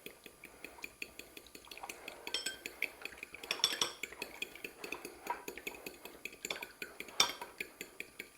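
A fork beating egg wash of egg and a splash of milk in a bowl, a steady quick run of light metallic clinks and taps against the dish, close and continuous, with no talking.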